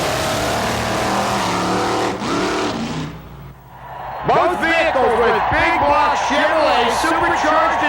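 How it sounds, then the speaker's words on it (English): Supercharged, fuel-injected big-block drag racing pickup trucks on a quarter-mile track in 1986, loud engine roar that dips briefly mid-clip, then returns with rising revs under an announcer's commentary. "the little wind-up motor in the back, really cranking it out to get this pickup truck down the quarter mile"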